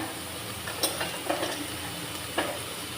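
Spiced egg bhurji being stirred in a hot pan with red chilli, turmeric and salt, a steady sizzle broken by a few soft scrapes of the spoon.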